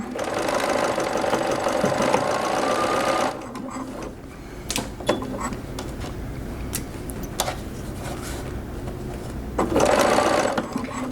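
A sewing machine stitches a candy corn witch hat in a loud, fast continuous whir, stops for several seconds with faint handling clicks, then starts up again briefly near the end.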